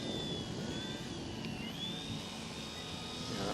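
A Huey helicopter lands with full collective, a loud steady rotor and turbine roar with a high whine and a faint shifting tone, continuous throughout.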